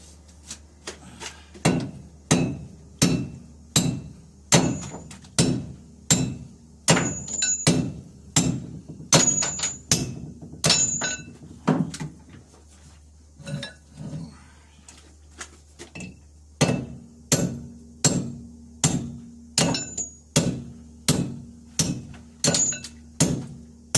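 Worn wheel studs are hammered out of a SAF axle hub from a Nooteboom four-axle lowloader trailer, loud ringing metal blows struck in a steady rhythm of about twenty hits with a short pause midway, close and alone.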